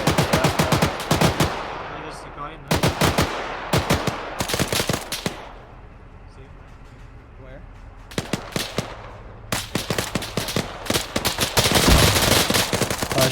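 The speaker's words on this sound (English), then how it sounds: "I'm shooting this guy through the wall." Gunfire in the military video game ARMA 3: loud automatic bursts of rapid shots, then a quieter pause, then more sustained bursts and single cracks, close and dominant throughout.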